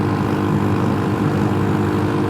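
A mini-moto scooter engine held at full throttle on California Highway 36 drones steadily and loudly with a buzzing tone and wind rush, with no speech.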